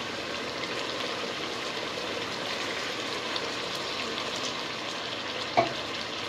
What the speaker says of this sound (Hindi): बस अब इसके अंदर मैं पानी ऐड करती हूँ।